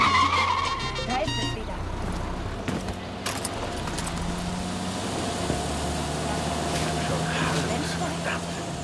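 Car driving in Far Cry 6, a sluggish, underpowered vehicle with a steady low engine drone running throughout, joined by rattles, clatter and brief bumps, with a few short game sound effects layered on top.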